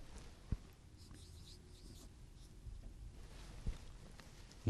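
Handwriting strokes of a pen or chalk as terms are written out one by one, faint scratchy marks over a steady low room hum with a couple of small taps, no talking.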